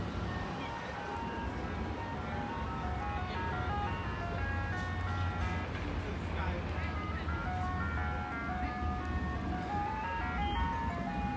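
An ice cream truck drives by playing the jingle "Turkey in the Straw", its tinny repeating melody carrying steadily over engine rumble and street noise for the whole stretch.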